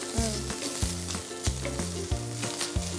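Butter sizzles in a hot pan with a constant, close crackle and hiss, steady and fairly loud throughout, with no voices.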